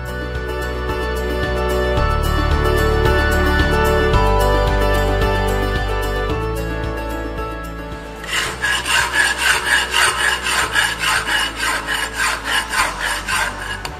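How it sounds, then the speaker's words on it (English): A hand file scraping the edge of a clamped steel plate, prepared for a square butt weld. A smooth continuous rasp comes first, then loud rhythmic back-and-forth strokes, roughly two per second, close and alone. "See, again this workpiece is fixed and filing."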